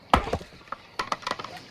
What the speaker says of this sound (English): You're keeping me awake with all that chopping